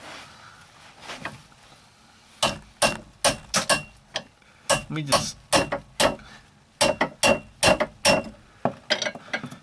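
Sharp metallic hammer strikes ring out beneath a 2000 Chrysler 300M, a burst of quick irregular blows close by in a garage, with someone briefly speaking before they start.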